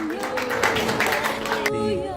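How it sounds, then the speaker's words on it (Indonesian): Audience clapping in a school assembly, a short burst of many hands mixed with voices, fairly loud, cutting off abruptly near the end as the room quiets. "Tepuk tangan."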